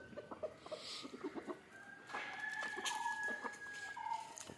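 Free-range country chickens cluck in a coop as it is opened, with repeated clucks and a drawn-out call across the stretch, fairly close and moderately loud, no talk.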